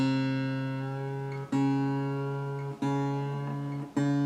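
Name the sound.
tuning a new guitar's strings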